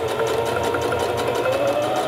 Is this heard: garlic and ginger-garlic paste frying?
no